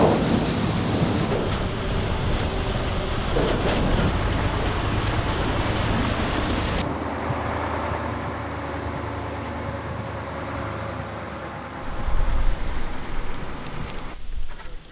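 Steady rain drums on a vehicle during wet, cold weather, heard from inside as a dense continuous wash with a deeper rumble, fairly loud throughout and swelling slightly near the end.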